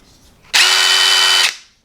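A Dewalt impact driver (DCF887/DCF889/DCF899HP2) in mode 2 whirs at high speed for about a second, loud and close, then cuts off and spins down.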